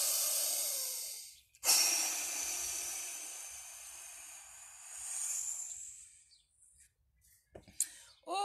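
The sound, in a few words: breathing in during a breathing exercise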